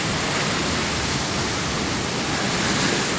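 An 18-foot ocean wave breaks in the surf near a lifeguard rescue boat, a loud, steady roar of churning whitewater with no pauses and no voices.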